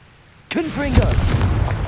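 Confringo explosion spell cast in the video game Hogwarts Legacy, silence broken by a sudden loud burst followed by crackling, whooshing fire and rumble that keep going to the end.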